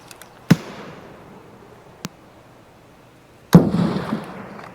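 Grenade blasts in Escape from Tarkov on the Reserve map: a sharp nearby bang, a small distant pop, then a loud close explosion with a rolling tail, with no talk.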